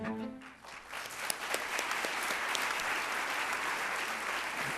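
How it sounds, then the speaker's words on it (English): An audience at an awards ceremony honoring radio host Tom Joyner breaks into applause, steady dense clapping that swells after a brief start and carries on alone. "for that, we applaud him"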